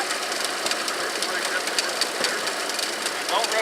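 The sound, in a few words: car engine running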